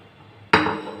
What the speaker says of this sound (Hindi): यहाँ देखिए ये मैंने आलू डाल दिए हैं